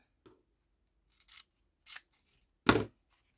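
Scissors snip through the end of a decorative knotted cord, about four quick close cuts spaced irregularly, the last one loudest, in an otherwise quiet room.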